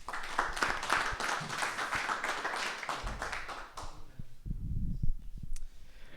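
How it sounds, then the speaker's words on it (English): Brief scattered clapping from a small meetup audience welcoming a speaker at a PHP user group talk, fairly quiet and short, tapering off into a few thumps and handling noises. "So please give him a round of applause and let's hear what he has to say."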